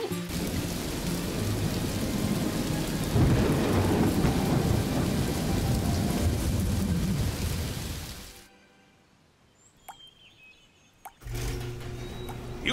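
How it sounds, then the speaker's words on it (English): Heavy rain pours in a cartoon thunderstorm with loud rolling thunder, a dense steady roar that cuts off suddenly, leaving brief near-silence before the downpour returns. "Oh, it's raining already."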